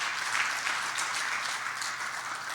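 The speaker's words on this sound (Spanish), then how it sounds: "Ese aplauso es al Señor fuerte, hermano." A church congregation applauding, a dense wash of clapping from many hands at moderate distance, steady and unbroken for a few seconds.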